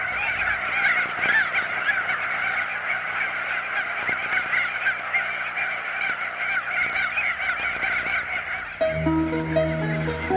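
Breeding geese honking in a dense, continuous chorus of loud overlapping calls that runs almost the whole time, with a lower droning sound joining near the end.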